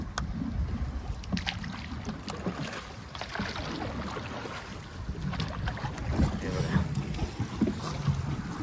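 A fishing boat moves across a creek near Mumbai, heading toward set fishing nets; steady water and wind noise rumble throughout, with faint voices in the background.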